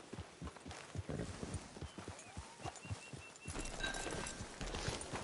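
Horse hooves clip-clop at a steady walking rhythm in the Red Dead Redemption 2 video game, close and fairly loud, with a brief whinny and heavier rustling ambience in the last seconds.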